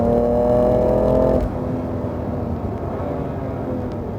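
A BMW M2C on the Dubai Autodrome club circuit, its engine droning loudly at high revs before easing into a steadier, lower whir as it runs on, close and with no talk.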